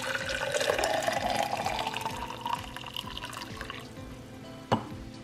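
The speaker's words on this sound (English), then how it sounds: "So now you wanna take this and pour it into your cup." Steeped tea being poured into a cup for milk tea boba, a steady liquid splash running for several seconds before easing off, ending with a brief knock near the end.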